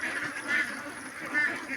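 Ducks on a farm of about 1,200 birds, fed on feed, wheat, maize and rice bran, quack in a steady, continuous chorus. The flock sounds fairly close, with louder swells of calls recurring every second or so.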